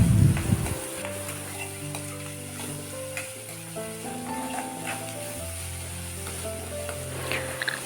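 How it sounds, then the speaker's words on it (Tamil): Sliced medium-size onions with rock salt sizzle and fry steadily in a pan while being stirred, a close, continuous crackle with a brief louder clatter at the start and no talking. "3 மீடியம் சைஸ் பெரிய வெங்காயத்தை இதில் ஆட் பண்ணிக்கிறேன். கூடவே கொஞ்சம் கல்லுப்பு ஆட் பண்ணி ஒரு 1 மினிட்க்கு நல்லா கிளறி விட்டுக்கோங்க."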